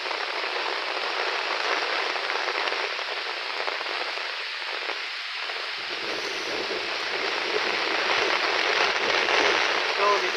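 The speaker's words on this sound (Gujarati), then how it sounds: "આજે એટલો વરસાદ અને પાણી છે ભાઈ" Very heavy monsoon rain pours down in Keshod taluka, Junagadh district, a dense, loud, unbroken hiss of water on surfaces lasting throughout.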